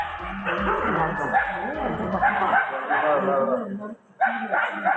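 Several dogs bark and yip in rapid, overlapping bursts as a bear chases them near a church close to the Main Falls at Courtallam, Tenkasi. The barking is loud and continuous, with a brief gap near the end.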